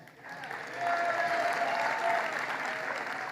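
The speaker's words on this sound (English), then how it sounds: "clap for the one you like best" An audience at a law-and-order political rally in New York breaks into applause, starting faintly and swelling into loud, sustained clapping that carries to the end.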